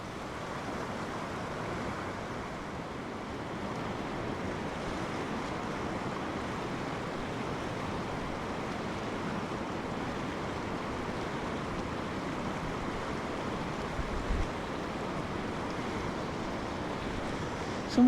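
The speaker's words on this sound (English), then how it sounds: "Somewhat annoyingly, the wind has come to my face here." Wind blowing along a Hebrides sea shore during spring salmon fishing, a constant broad rushing roar with surf beneath, steady and unbroken, a small knock near the end; no talk.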